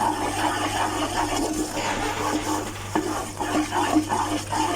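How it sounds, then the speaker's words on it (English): Wooden spoon stirring a thick Mysore pak mixture of ghee and oil cooking on a low flame, a steady scraping and bubbling texture that runs without pause, close and moderately loud over a low background hum. "And I'm switching over to my wooden spoon again."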